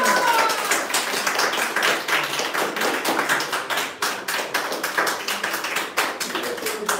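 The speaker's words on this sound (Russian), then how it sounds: "Аплодисменты!" Applause at a wedding ceremony in a registry office in Minsk, a small group clapping briskly and steadily, close and fairly loud, with the claps thinning slightly toward the end.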